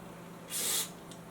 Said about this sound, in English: I guess I'll just use DeoxIT right here.